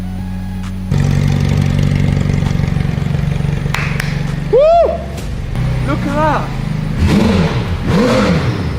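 A crash-damaged McLaren 720S, rebuilt and being run up to temperature, revs loudly and close by with a sustained engine roar. An excited voice then exclaims over quieter engine noise.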